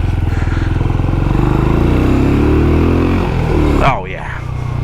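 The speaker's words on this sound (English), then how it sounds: "waking up the neighbors to some 50s motorcycle sounds" A Benelli Imperiale 400 single-cylinder motorcycle on a city street sends out a loud, close, rhythmic engine thump that climbs in pitch as it accelerates, then drops abruptly near the end, with a voice speaking over it.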